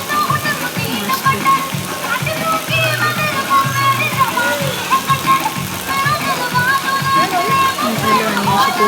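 Water splashes and churns continuously as people swim in an outdoor swimming pool, with a voice and other chatter mixed in over the steady wash of water.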